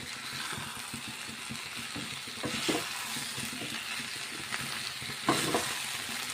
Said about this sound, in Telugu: ఇంకొక నిమిషం మగ్గించుకుంటే ఆ కాకరకాయ ముక్కలు మగ్గుతాయండి. ఇలా ఆయిల్లో మగ్గించుకుంటే బాగుంటుంది టేస్ట్.